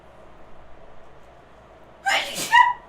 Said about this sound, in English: She has powerful sneezes.